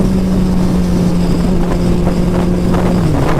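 A turbocharged Suzuki Hayabusa motorcycle on a shakedown test ride gives a loud, continuous engine drone under heavy wind rush, with the pitch shifting as it accelerates.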